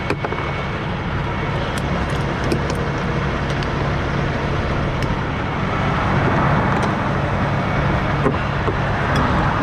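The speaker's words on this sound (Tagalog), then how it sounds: "Mabibilis ang sasakyan dito." Fast cars and trucks rush past on a highway at close range, a loud continuous roar of traffic with swelling pass-bys and tire noise, no voices.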